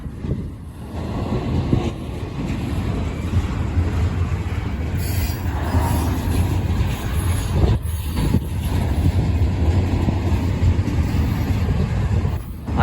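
A CSX I-158 freight train, running from North Baltimore, Ohio east to Philadelphia, rolls past a Lake Avenue crossing in Blasdell, New York on a windy afternoon, a loud continuous rumble of railcars with wheel squeal, no talking.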